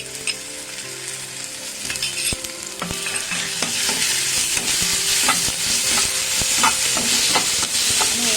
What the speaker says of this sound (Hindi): हमें गैस रो आंच टिके धीमा कर दबा और अदा रसुण पेस्ट ए हमें पकाइबा